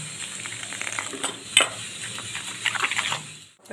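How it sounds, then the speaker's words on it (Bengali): Dry ingredients, including baking soda, are mixed with water into batter for a banana-stem chop, giving soft, steady scraping and stirring in a bowl with faint wet swishes and an occasional light clink. "শুকনো উপকরণগুলো আমি খুব ভালো করে মিশিয়ে নিচ্ছি। একটু জল দিয়ে ব্যাটারটা তৈরি করে নেব।"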